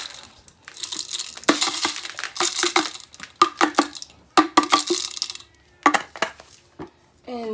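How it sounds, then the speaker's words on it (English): Dollar Tree laundry detergent ingredients being mixed together in a container, giving irregular clattering, scraping and crunching bursts, close and fairly loud, with short pauses between stirring strokes. "we're going to mix them up like so"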